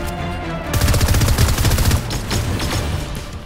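Rapid automatic bursts from a mythic assault rifle in the Fortnite video game crack out loudly and continuously, heavy and dense, with no voices over them.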